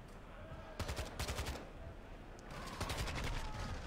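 Rapid bursts of automatic gunfire in Call of Duty Modern Warfare II crackle in two clusters of quick repeated shots over game background noise, moderately loud.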